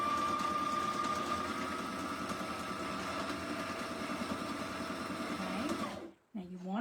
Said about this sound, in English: you're going to put your presser foot back down again and sew all the way down this edge